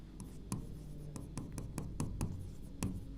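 An optics equation is written by hand, and the pen or marker makes a string of soft, close strokes and taps in an irregular rhythm. The background stays quiet and no one talks.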